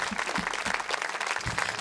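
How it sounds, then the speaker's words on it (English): A big round of applause from an audience at a late-night comedy show, dense and continuous clapping from many people across the whole stretch. "Let's give her one more big round of applause"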